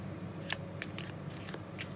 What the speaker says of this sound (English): So I'm going to shuffle, then cut.